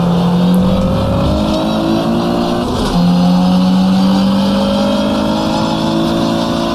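A race car engine in the 2005 rFactor racing game drones loud and steady with rising pitch sweeps as it accelerates, a brief dip at a gear change, then climbs again.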